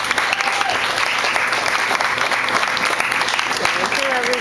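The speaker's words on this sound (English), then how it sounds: "please a round of applause for them" Audience applause fills the room at an open mic night, a dense steady wash of many hands clapping close by, with a few shouts and cheers rising above it.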